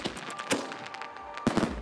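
Mortar-launched fireworks at a pyrotechnics festival in Tultepec, Mexico: a quick run of sharp bursts and crackling pops, with a strong cluster of booming blasts near the end, loud and fairly close.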